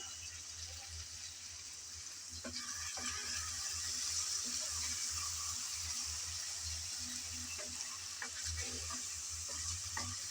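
Spicy shrimp fry cooks in a covered pan, the lid lifted for stirring; a steady close sizzle runs throughout with soft scraping and stirring strokes mixed in.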